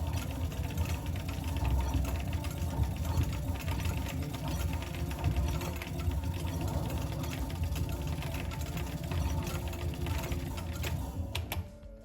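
Air Duel, an arcade shoot-'em-up, plays on a Batocera arcade setup with dense continuous electronic game audio, steady rapid mechanical-sounding firing and engine-like drone, loud and unbroken until it cuts off just before the end.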